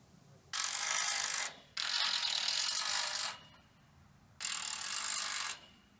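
A power screwdriver drives screws through metal channel into a bent greenhouse frame bow, three sustained bursts of whirring lasting about a second each, close and loud with quiet pauses between.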